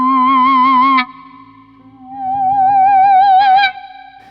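Electric guitar notes held with endless sustain from a Vibesware GR-1 Guitar Resonator, loud singing tones with wavering vibrato-like overtones, two long sustained notes cut off sharply, a shifting higher overtone in the second.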